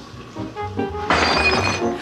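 Packages marked as glass smash onto a stone floor, a short thud or two followed by a loud, bright shattering burst of breaking glass, close and alone.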